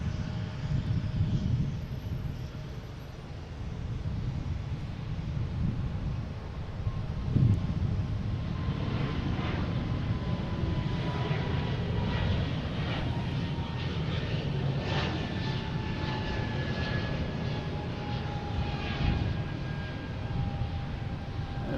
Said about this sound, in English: We have a Delta heading to Nashville, an A220, flight 2586.